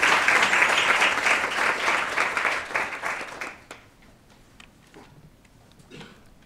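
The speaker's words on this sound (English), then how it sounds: "Can you please give them a round of applause" An audience at a mental health panel event gives a warm round of applause, steady and full for about three seconds before thinning to a few scattered claps and room noise.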